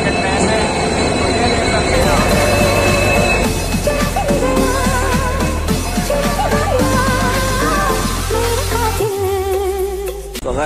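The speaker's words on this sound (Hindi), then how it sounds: "सो गाइस, फाइनली ट्रेन आ चुकी है, अभी हम यहाँ पे वेट करेंगे इसका," A passenger train pulls into a railway station, its loud, continuous rumble and rail noise filling the scene with station bustle and voices talking throughout, the sound easing off near the end.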